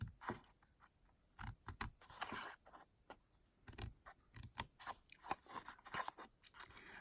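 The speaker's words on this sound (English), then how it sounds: "so we're cutting up on the score lines." Paper or card stock being cut along score lines for a crafted treat holder, heard as a steady series of close, crisp snipping and crunching cuts, fairly soft, with no talking.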